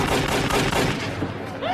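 Gunfire aboard a ship in The Mummy (1999) as O'Connell shoots, a dense loud clatter of rapid shots layered over a constant roar and film score, with no pauses across the burst.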